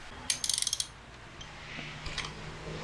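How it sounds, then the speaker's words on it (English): Ratcheting socket turning the coil pack nut on an Audi S3/Golf R Mk7 engine, a quick burst of about seven sharp clicks near the start, then a couple of fainter clicks and clunks, close and alone. "use a ratcheting socket to take the nut off the top"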